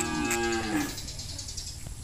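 A bull on a Vietnamese cattle farm lets out one loud, close, drawn-out moo that fades into farmyard background noise.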